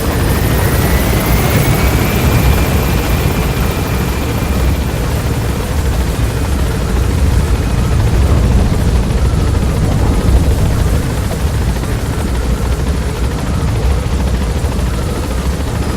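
A helicopter lifts off in Metal Gear Solid V, its loud, steady rotor and turbine roar filling the scene close by, with a rising engine whine early on and no break throughout.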